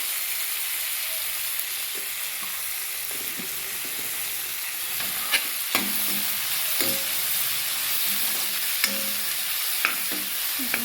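Tomatoes frying with turmeric and salt in a pan, a steady sizzle broken by regular scraping stir strokes and light clinks, close-up, with no voices.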